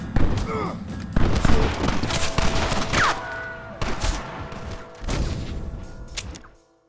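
Bursts of gunfire in Red Dead Redemption, a chaotic fusillade of close rifle and pistol shots with thuds and booms, loud and dense before thinning out and stopping abruptly.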